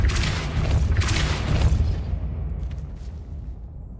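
A Depulso spell in Hogwarts Legacy lands as a deep, rumbling blast that sounds loud at first and then fades slowly over a few seconds, with brief faint clicks near the end.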